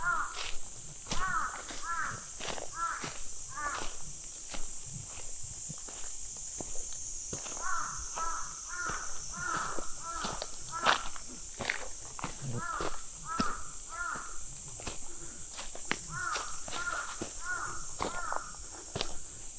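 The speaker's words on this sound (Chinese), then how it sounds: "森林里面有很多的乌鸦。" Crows caw repeatedly in a forest, harsh calls coming in irregular bursts at moderate distance over a steady high insect hiss, with scattered crunching footsteps and clicks.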